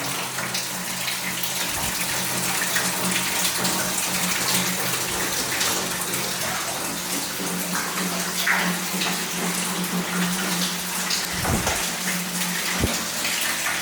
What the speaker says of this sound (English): the pipe driven into the rock there, right into a spring, and that's draining some water